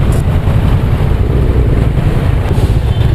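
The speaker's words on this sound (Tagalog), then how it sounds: "Ang laki ng motor na to." Large Yamaha XMAX motor scooter cruising, a steady low engine drone mixed with rushing wind, close and loud throughout.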